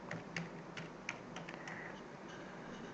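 Quiet keystrokes on a computer keyboard come in irregular bursts of clicks at close range and fade toward the end.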